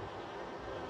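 A dense swarm of honeybees hums steadily around an open hive's brood comb during a linden honey harvest, a close, continuous buzz with no voices.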